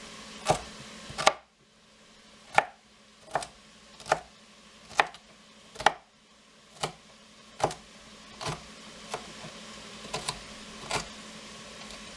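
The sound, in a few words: chopping vegetables for cabbage soup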